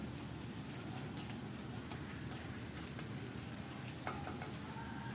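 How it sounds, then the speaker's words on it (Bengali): Onion and garlic paste sizzling in a pan of oil, a steady dense frying hiss running evenly throughout with faint scraping stirs on top and no talking. "এখন দিলাম পেঁয়াজ আর রসুন বাটা"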